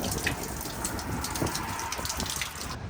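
A drinkable artesian well in Wisconsin pours water in a steady, continuous gushing rush, close and moderately loud, alone without voices.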